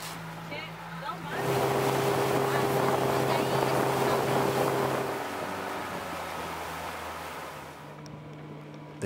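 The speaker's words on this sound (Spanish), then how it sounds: "Después de cruzar el lago Puelo en lancha, llegaron al muelle del guardaparques." Motorboat crossing Lago Puelo: a steady engine drone and rushing water and wind noise rising after a quieter start, holding loud and close, then easing slightly toward the end.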